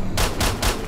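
Gunfire in the video game S.T.A.L.K.E.R.: Shadow of Chernobyl, three sharp shots in quick even succession, loud and close with a low rumbling tail between them.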